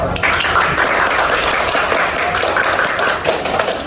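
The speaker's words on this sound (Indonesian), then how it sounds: "Tepuk tangan dulu untuk kita semua" Steady audience applause during a microteaching session in a classroom, a dense, loud wash of many hands clapping continuously for about four seconds.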